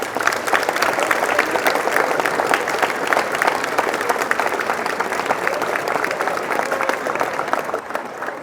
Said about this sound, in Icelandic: Ég ætla að biðja ykkur að gefa honum líka gott klapp.